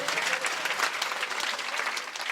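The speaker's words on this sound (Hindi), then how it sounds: "एक बार ताली बजा दीजिए" Steady, dense applause from a crowd at a kavi sammelan poetry gathering, loud and sustained without a break.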